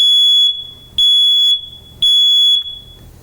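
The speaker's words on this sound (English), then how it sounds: "there's on every smoke alarm, there's some kind of a button, and you push this button and hold it" A household smoke alarm sounds from its test button in three loud, piercing, high-pitched beeps, each about half a second long and evenly spaced, heard up close with nothing else around them.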